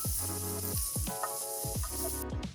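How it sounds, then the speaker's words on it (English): Rinsed frozen food stir-frying in a pan, a steady close sizzle running throughout with repeated stirring scrapes at a slow, regular rhythm, and no talking. "Just stir fry until they're heated through, around 3 to 4 minutes"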